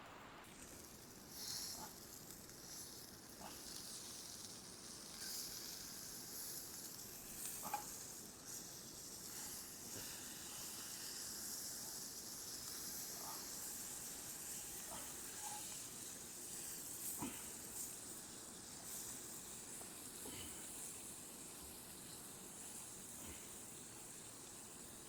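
Steaks sizzle steadily in a cast iron pan over a campfire, a faint, continuous hiss with occasional small pops and crackles and no talking.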